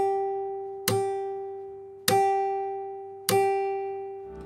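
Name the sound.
guitar string slap and pluck fingerstyle technique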